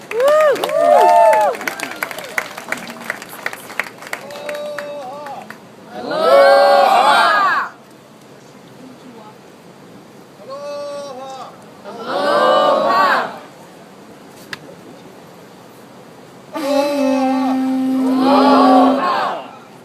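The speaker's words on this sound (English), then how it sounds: "please welcome in a round of applause our torchbearer" Bursts of crowd applause and cheering greet a torchbearer at a Hawaiian luau, swelling in three loud waves between stretches of an announcer talking and fainter clapping.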